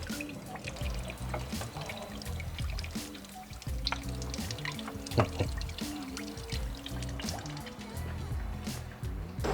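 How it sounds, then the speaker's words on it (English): Engine coolant pours and trickles steadily from a 2003–2011 Saab 9-3 with an Ecotec engine during water pump replacement, a continuous splashing stream with small drips, loud and close with no voices. "while we're waiting for our water to drain"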